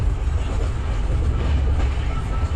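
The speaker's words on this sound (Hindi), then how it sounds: "चलो ट्रेन निकली है टाटा नगर से।" The Gitanjali Express passenger train runs on rails near Tatanagar with a loud, steady low rumble and rolling wheel noise, heard from on board without a break and with no clear speech.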